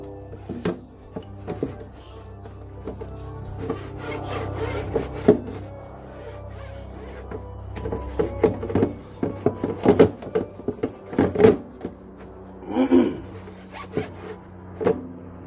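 Plastic headlight lens being cut apart after warming, giving a run of irregular sawing and scraping strokes up close, with scattered sharp clicks and snaps and a louder crack near the end, no talk.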